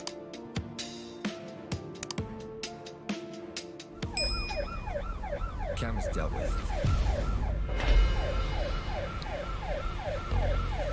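Wailing police sirens from the video game Crime Boss: Rockay City rise and fall repeatedly in the second half, loud and layered over game music and engine rumble, after a stretch of rhythmic beats.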